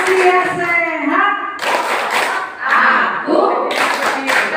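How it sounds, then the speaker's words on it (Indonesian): A group claps in rhythm during a Kartini Day gathering of elderly participants, loud bursts of unison claps in short patterned runs, with chanting voices at the start. "Tepuk lansia sehat."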